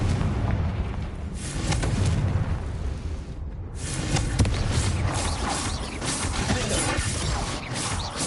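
A Confringo fire spell blasts in the Hogwarts Legacy video game, a booming burst with rumbling low-end impact and crackling mechanical debris, loud and sustained for several seconds with a brief lull midway.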